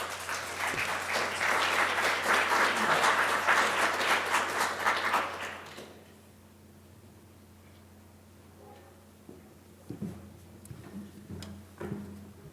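Loud audience applause fills a conference hall at a stakeholder presentations session, dense and steady for about six seconds before dying away into quiet room tone with a few faint scattered sounds.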